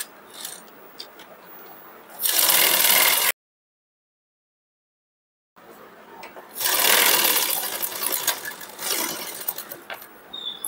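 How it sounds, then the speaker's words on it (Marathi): A sewing machine stitches the neckline of a cutwork boatneck blouse, joining the lining to the main fabric. Two loud bursts of running stitching come close by, with a silent gap between them and quieter handling in the background. "इथं आपण गळ्याला शिलाई मारून इथं गळा आपण पलटी करून घेऊया"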